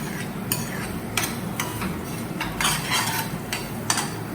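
A spoon stirs boiled peas into a simmering potato gravy in a pan, a low bubbling sizzle under irregular clinks and scrapes of the utensil against the metal pot, close and moderately loud, no voices.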